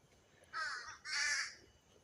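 Crows, with a raven sometimes among them, give two loud harsh caws in quick succession, each lasting about half a second, against a quiet outdoor background.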